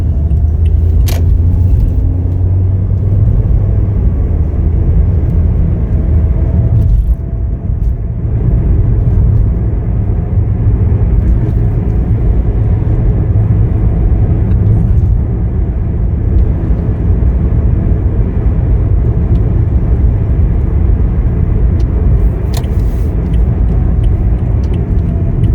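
A 2016 Toyota Corolla L on a test drive gives a steady, loud low road and engine rumble inside the cabin, continuous throughout with one brief dip partway and no talking.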